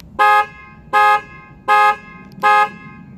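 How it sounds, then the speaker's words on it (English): A Ford F-150 panic alarm, triggered from the key remote, sounds four loud, evenly spaced horn honks about three-quarters of a second apart, close by, with no talk. "if you push the panic alarm once, even if it's in your pocket, the alarm goes off."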